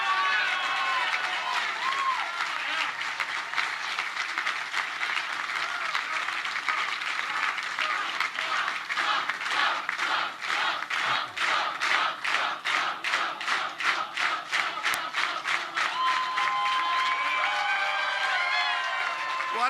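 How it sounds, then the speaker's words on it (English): A large crowd at a Donald Trump rally applauds and cheers loudly and continuously. Rhythmic chanting claps emerge through the middle section before the noise settles back into broad cheering. "What a crowd, what a crowd."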